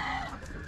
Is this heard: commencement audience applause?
no